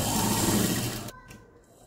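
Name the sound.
sewing machine stitching a baby cap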